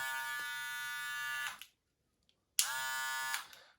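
A custom DIY golden hair clipper fitted with golden cutter and hybrid blades buzzes loudly and close in two bursts, about one and a half seconds and one second long, with silence between them.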